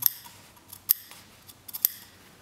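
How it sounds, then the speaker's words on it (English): Scissors cut open fabric for a double welt pocket in a few crisp, close snips spread over a couple of seconds, quiet and with no talking. "Now we're gonna cut it open."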